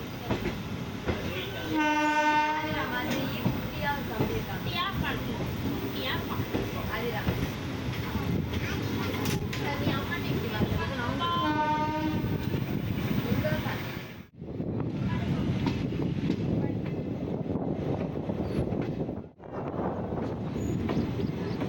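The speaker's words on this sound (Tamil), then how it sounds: "1 நிமிஷம் ஸ்டாப் கொடுத்து இப்போ ட்ரெயினை எடுக்க ஆரம்பிச்சிட்டாங்க" A passenger train on the Karaikal–Thanjavur line rumbles and clatters as it pulls out of a station, with horn blasts early and again midway, wind buffeting the microphone throughout.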